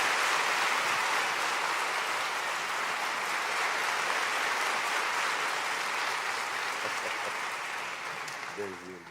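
Sustained applause from a crowd, dense and steady clapping that gradually thins and fades near the end.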